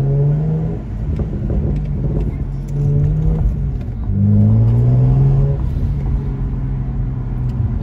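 A BMW 330i with the N52B30 inline-six and a performance exhaust revs repeatedly, its deep, smooth note swelling and falling in several rising pulls, loud and close.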